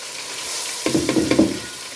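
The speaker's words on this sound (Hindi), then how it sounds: "ये चिकन तकरीबन हमारा फ्राई हो चुका है। अब मैं इसमें सब्जियां शामिल करूँगी एक एक करके," Vegetables tumble into frying chicken in a pot, a brief clatter of several thuds and bursts of sizzling after a quieter steady hiss.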